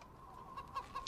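A chicken clucks faintly in a few short, choppy bursts over a quiet background, with a sharper squawk near the end.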